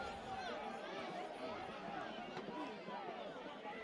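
Home crowd of Shelby Golden Lions fans at a high school football game, a restless murmur of many voices and scattered shouts, steady and moderately distant, with people talking close by.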